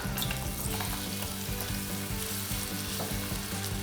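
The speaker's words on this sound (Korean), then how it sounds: "프라이팬에 기름을 넣어 주시고 감자를 먼저 붓겠습니다" Diced potatoes fry in oil in a frying pan with a loud, dense, continuous sizzle and a bit of stirring clatter, no voices.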